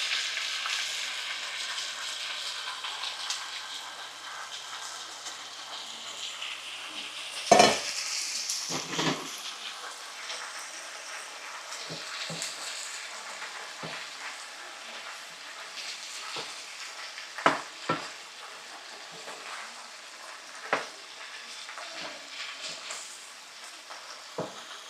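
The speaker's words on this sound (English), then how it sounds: "Now I'm gonna add in my dry" Dry fish sizzles softly in a pan in a Guyanese home kitchen, a thin steady hiss with occasional clinks and scrapes of a utensil against the pan scattered throughout.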